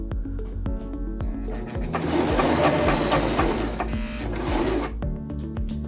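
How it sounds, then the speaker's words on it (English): A Singer M1250 sewing machine stitches a buttonhole with a rapid, even mechanical chatter of needle strokes, loud and close, swelling briefly in the middle before easing back, with no talk. "Sew stitch AC 6 to 8 times across the remaining horizontal mark"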